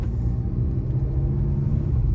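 A Volkswagen GTI driving on streets in Hawaii, heard from inside as a steady low engine and road rumble, even and continuous with no talk.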